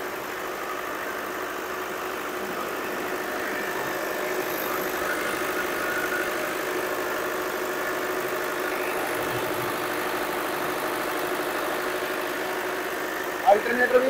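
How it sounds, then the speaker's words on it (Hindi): A Kirloskar 40 kW four-cylinder, single-phase self-start generator runs at a steady idle, a continuous even engine drone close by that holds without change throughout, with a brief louder knock near the end. "आप देख सकते हो जेनसेट स्टार्ट हो चुका है और बिल्कुल भी जनरेटर में वाइब्रेशन तक नहीं है जेनसेट में।"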